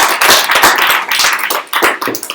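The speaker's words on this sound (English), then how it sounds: "Okay, applause for Malika." Lively applause for Malika at a webcast event in Turin, a group of people clapping briskly and loudly at close range for a couple of seconds, with a few separate claps trailing off at the end.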